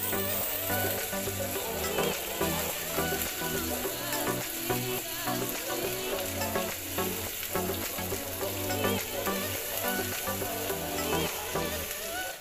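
Cabbage and bean sprouts sizzle and crackle in a hot pan while being stir-fried for mi goreng Aceh, a constant loud frying hiss with scraping stirring sounds underneath.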